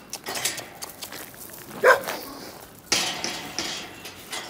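A single sharp bark from a recovered dog at an animal shelter near the middle, followed by another louder bark-like burst, with quiet rustling around them.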